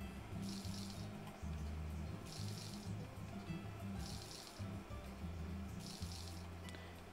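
Water pouring from a tap or pump in the farming video game Story of Seasons: A Wonderful Life, a steady splashing stream recurring in short bursts over a low, constant background hum.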